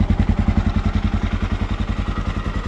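A rebuilt Honda XR500 motorcycle engine runs at a steady idle, its single-cylinder thump pulsing in a fast even rhythm, close and loud with no talk.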